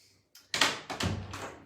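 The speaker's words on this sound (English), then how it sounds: "I'm just going to let Martha out because she's going to start scratching the door" An indoor door is handled to let a dog out, giving a short series of close, loud rattles and clunks, a handle or latch catch, then a sliding scrape, after a brief quiet moment.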